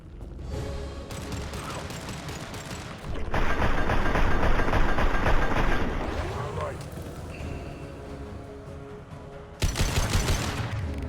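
Assault rifle gunfire in the Mass Effect 2 video game: dense, loud bursts of automatic fire that swell and fade, break off briefly, then return with a sharp burst near the end.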